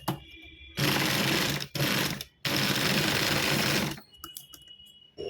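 A sewing machine stitches cloth for a blouse latkan in three loud, fast bursts separated by short pauses, followed by quieter handling clicks.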